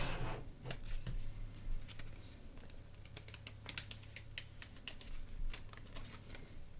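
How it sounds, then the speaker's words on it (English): Vinyl letters pressed onto transfer tape get a firm scrape, making a steady run of quick, dry scratchy strokes close up with no voices. "I'm just gonna give this a good scrape with my transfer tape."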